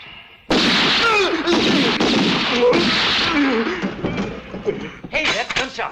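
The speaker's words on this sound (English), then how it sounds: "Hey, that's gunshots." Gunfire from a 1968 Western film scene erupts abruptly after a brief quiet start, a loud sustained burst of shots and impacts that continues several seconds before trailing into scattered sharper reports, with voices mixed in.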